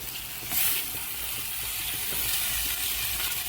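Koshari sizzles steadily as it is sautéed in a pot, a constant close frying hiss with light stirring scrapes and no talking.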